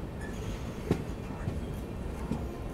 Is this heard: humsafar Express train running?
yes